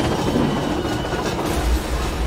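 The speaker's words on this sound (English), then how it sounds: "The train sounds like it murdered a lot of people." A train in the video game Control rattles and clatters steadily along the tracks, loud and close, with a dense metallic rumble and no talking.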